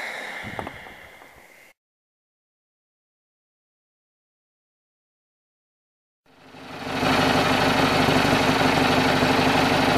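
A small Gravely 20G tractor engine with fuel pump trouble idles with a steady, loud rumble, fading in after a stretch of silence; a brief burst of other noise comes before the gap.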